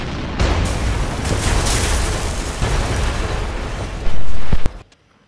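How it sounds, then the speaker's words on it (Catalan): Explosions rumble across a city as a loud, continuous roar of blasts and booms, ending in one heavy burst that cuts off abruptly into near silence. "Doncs sembla que hi ha explosions."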